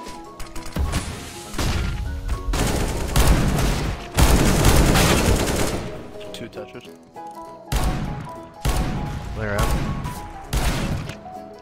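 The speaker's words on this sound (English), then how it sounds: "The gun is not accurate while moving." Loud gunfire in the CS:GO video game from the R8 Revolver, several heavy booming shots spaced irregularly with crashing impacts and game noise, a voice talking over parts of it.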